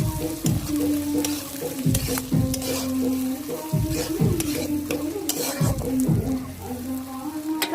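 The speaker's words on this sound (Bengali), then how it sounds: "নেড়ে দিচ্ছি" Frying ingredients for chicken curry sizzle steadily in a pan, broken by a regular series of scraping stirs from a spatula every second or so. The sound is close and loud, with no speech.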